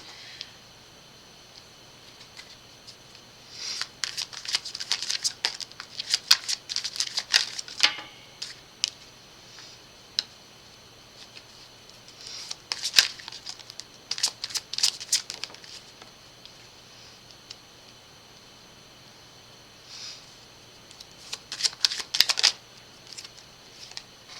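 Playing cards shuffled and dealt in bursts of crisp riffling and flicking, three or four clusters separated by quiet pauses, close and soft, with no talking.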